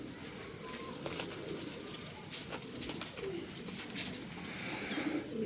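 Soft, low cooing of a rare grey pigeon repeats over a constant high-pitched insect drone, with scattered faint chirps in the background.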